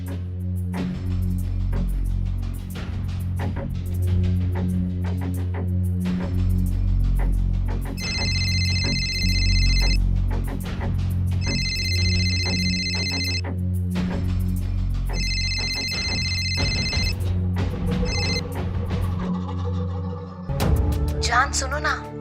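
A phone ringtone in a Hindi crime drama scene, repeated electronic ringing bursts about three times with pauses, sounding over background music and a voice talking.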